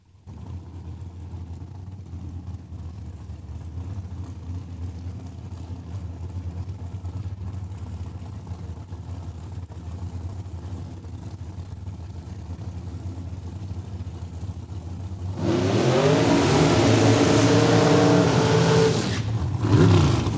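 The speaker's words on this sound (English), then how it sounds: "both vehicles warming up those rear tires" Drag racing dragsters at Saskatchewan International Raceway warming their rear tires, a steady loud engine drone that swells into a harsh roaring burnout near the end.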